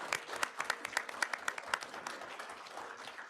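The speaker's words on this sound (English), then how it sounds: "Round of applause." A burst of steady clapping from a group at a school board meeting, dense and lively, fading slightly toward the end with no voices over it.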